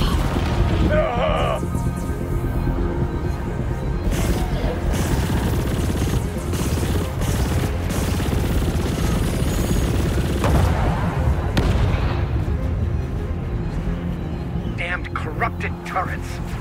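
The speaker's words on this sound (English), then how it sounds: "The Enclave is still firing at us." Enemy Enclave turrets shooting at the player's ship in the space game Chorus, a steady stream of booming impacts and crackling shots over a constant engine roar, with a voice talking now and then.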